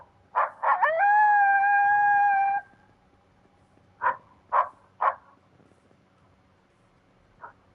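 Coyote howls and yips broadcast from a speaker set up outdoors: a long, wavering howl with rising harmonics lasts about two seconds, followed by several short, separate yips and a faint final call.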